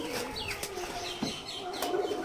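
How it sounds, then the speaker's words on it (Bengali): Aggressive domestic pigeon, a household breeding bird, cooing in low repeated throaty notes with brief chirps and a burst of wing flapping, all close and fairly steady. "অনেক সুন্দর আর অনেক অ্যাগ্রেসিভ পায়রা।"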